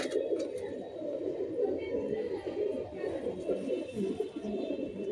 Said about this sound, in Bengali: দেখে নিন পায়রার কোয়ালিটি ম্যাড্রাস পায়রা